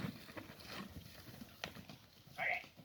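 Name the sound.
horse moving, hooves clip-clopping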